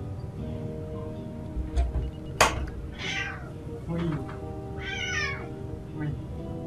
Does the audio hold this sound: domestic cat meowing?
yes